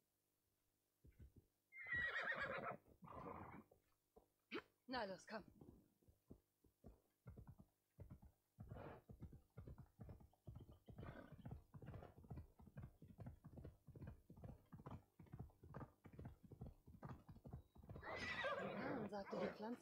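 A horse whinnies loudly twice in the video game Assassin's Creed Odyssey, at the start and near the end, with steady hoof clip-clops and a spoken voice in between.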